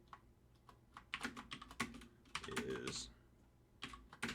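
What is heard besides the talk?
typing Java code on a computer keyboard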